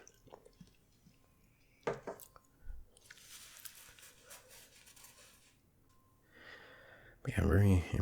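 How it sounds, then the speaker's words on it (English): Close-up chewing on french fries from a retro food court, soft crunches and wet mastication sounds scattered through the clip, with a louder burst near the end and quiet voices underneath. "you just hear him like chewing on the fries"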